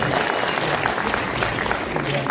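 Audience applause at a Bihar Diwas celebration in Itanagar, a steady dense patter of many hands clapping throughout, moderately loud with a faint murmur of voices beneath.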